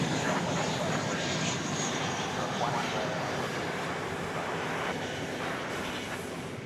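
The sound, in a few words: American Airlines Airbus A321 arriving from San Francisco at DFW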